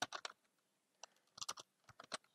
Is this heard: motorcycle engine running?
no